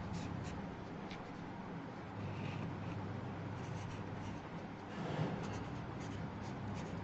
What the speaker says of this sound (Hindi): तो यहां लिख देते हैं सही से